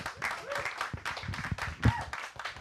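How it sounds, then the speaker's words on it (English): Scattered applause for the host's mother, a small group clapping unevenly at close range with a few voices and murmurs mixed in. "Everybody, please give a round of applause for my mother."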